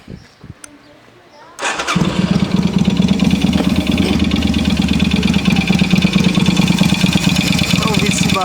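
A Yamaha Virago 250 motorcycle engine, said to have a piston noise, starts after a quiet moment and then runs steadily and loudly up close with a continuous rough, throbbing beat.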